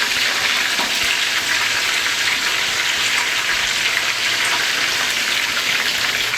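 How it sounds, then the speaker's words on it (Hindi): Raw marinated chicken for Lahori chargha hits hot oil and fries with a loud, steady, close-up sizzle and crackle that runs unbroken throughout. "हमारा ऑयल गर्म हो चुका है, अब इसमें चिकन डाल देंगे।"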